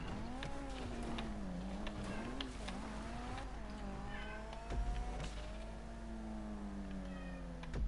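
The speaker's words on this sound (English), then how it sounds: "Speaking of cats, I think I can hear one in my house." A house cat meows repeatedly in long, wavering cries, fairly close and loud, over a steady engine-like drone in the background.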